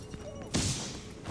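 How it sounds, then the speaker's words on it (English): A smoke grenade goes off in the game The Division: a sudden dull thump followed by a broad hissing rush that carries on to the end of the short clip, with a faint voice underneath. "It's one of those smoke grenades."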